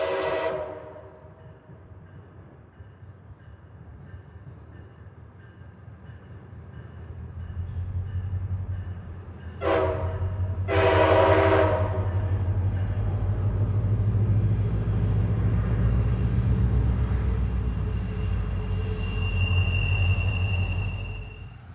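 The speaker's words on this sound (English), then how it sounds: "here's Marc 891. He's going to swing off the Y and head towards Frederick." A MARC commuter train passes through the Point of Rocks junction on the old B&O line, swinging off the wye. Its horn sounds, and then the rumble of railcars and wheels builds and stays loud and close.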